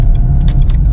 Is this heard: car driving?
yes